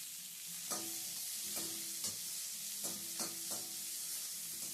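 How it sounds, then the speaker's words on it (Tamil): Finely chopped onion sautéing in a pan gives a soft, steady sizzle, broken every second or so by the scrape and clack of a spoon stirring, heard close and quiet with no voices. "ஒரு வெங்காயம் பொடி பொடியாக அரிஞ்சு அதையும் அதில் போட்டு நல்லா வதக்கணும்"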